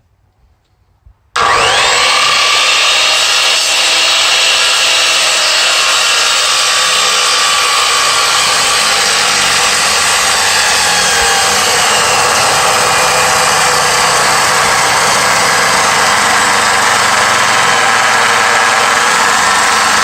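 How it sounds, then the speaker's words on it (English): A handsaw cuts a timber frame tenon in an awkward orientation, a loud, steady, continuous sawing drone starting abruptly after a brief silent moment and running without break to the end. "this saw does not seem to like to cut in that orientation"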